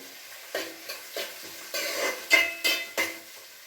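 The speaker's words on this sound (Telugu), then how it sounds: "కొంచెం వేగాలి బ్రౌన్ గోల్డెన్ బ్రౌన్ కలర్లోకి వచ్చే వరకు" Okra frying for an okra and prawn curry, with a spoon or spatula stirring and scraping in the pan over a steady soft sizzle, several distinct stirring strokes close by and no talk.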